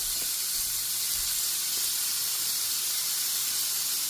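Slices of cheesy French toast sizzle in a hot frying pan, a steady soft hiss that carries evenly and fairly quietly across the whole clip with no talking.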